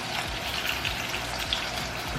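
Tortillas fry in hot oil with a steady, dense crackling sizzle that holds evenly throughout, close and without talk.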